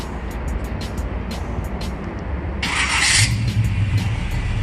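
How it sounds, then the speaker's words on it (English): Steady low V8 engine rumble from a 1968 Chevrolet Chevelle, with a burst of louder, brighter noise partway through as the engine catches and the exhaust swells, then a deeper idle. "start it up without my microphone so you can actually hear this exhaust"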